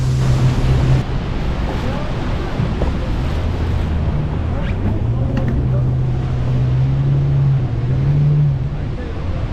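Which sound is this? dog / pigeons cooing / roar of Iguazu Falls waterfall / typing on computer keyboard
roar of Iguazu Falls waterfall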